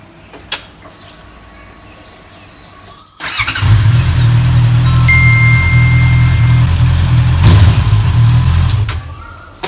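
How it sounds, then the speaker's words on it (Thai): A motorcycle that had been tipped over is cranked and fires up after a quiet pause with a few clicks, then settles into a loud, steady close idle for several seconds before cutting off. "เมื่อรถล้มลงไปแล้วมันจะสตาร์ทติดอีกรอบหรือเปล่า"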